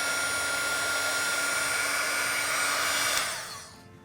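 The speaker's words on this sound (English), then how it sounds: "Another little blast with a heat gun." A heat gun blowing across a mixed media paper page, a steady loud whirring rush of air with a fan whine that runs for about three seconds, then winds down as it switches off.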